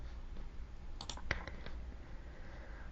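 Several quick, faint mouse clicks cluster around the middle of a quiet passage while a computer is used for video editing software, with no one speaking.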